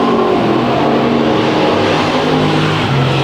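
Dirt track race cars at Chowchilla Raceway roar out of turn 4 during a heat race, engines loud, close and continuous, with layered revving throughout and no talk.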